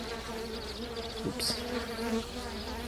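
Young honey bees buzz continuously around a hive, a close, dense, steady drone from many insects, with a brief soft exclamation from a person partway through.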